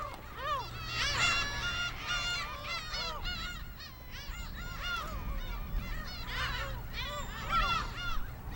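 A flock of birds feeding on a soft mud tidal flat at Ganghwa, honking and calling in overlapping bursts, fairly loud and continuous over a low background rumble.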